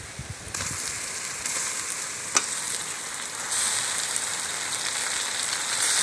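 Lote fish chop mixture of boiled fish, spices and salt being stirred in a hot pan, a steady close sizzle with a few sharp utensil clicks and a brief scrape.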